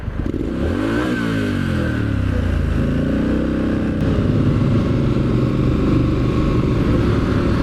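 A Triumph Street Scrambler motorcycle engine revs loudly up close, its deep rumble rising and falling in pitch through several throttle blips, then settling into a heavy idle.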